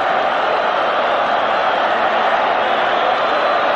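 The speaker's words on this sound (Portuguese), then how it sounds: "Torcida gritando Mengo" A Flamengo football crowd fills the Serra Dourada stadium with a steady, dense roar, the chanting blurred into one continuous wash of voices at a distance, with no pauses or gaps.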